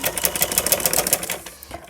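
Sewing machine stitching folded pleats into place along the edge of a long winter sleeve, a fast steady rattle of needle strokes close up that slows and fades near the end.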